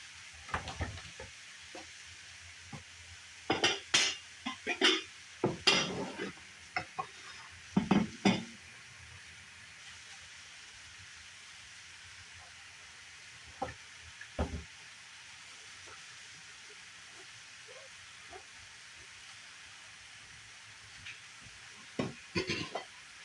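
Cabbage and smoked sausage sizzle softly in a skillet while being stirred, a faint low hiss broken by several clusters of spoon scrapes and clinks, then long quiet stretches.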